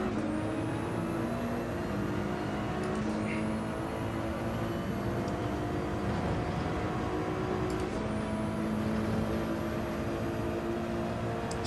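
Race car engine in Gran Turismo 7 holds a steady, loud drone for the whole stretch, with a high whine that rises in pitch several times as gears change, and no voices over it.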